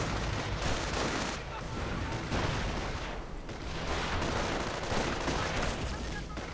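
In a World War II strategy game battle, a sniper fires again amid a dense, continuous rattle of gunfire and distant blasts, with talk running over the combat noise.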